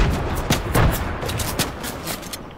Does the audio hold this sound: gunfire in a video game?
yes